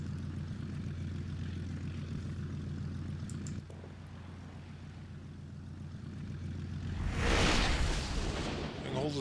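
A propeller airplane comes in to land, its steady engine drone holding low and even, then swelling into a louder, closer rush of air and engine noise near the end.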